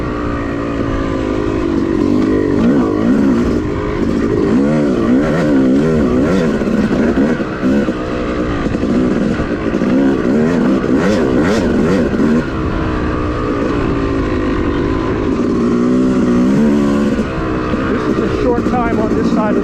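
A Yamaha YZ dirt bike ridden along a wooded OHV trail, its engine droning loud and close throughout with constant revving and throttle swells, no pauses.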